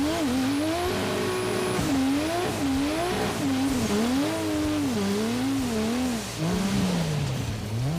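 A Dodge Charger engine sits bouncing on its rev limiter at a drag race, loud and close, the pitch swinging up and down in repeated surges with brief tire squeal and no talking.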